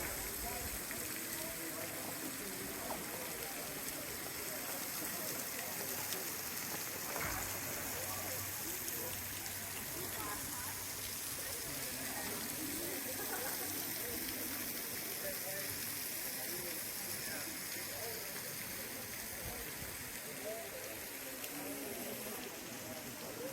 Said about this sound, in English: Lower Emerald Pool. Nice waterfall up here.